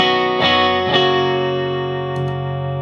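A Stratocaster electric guitar played through a RedPlate Magica amp set to a Twin-style voicing, with two strummed chords early on ringing out and sustaining, then a couple of lighter picked notes near the end, loud and clean with no talking.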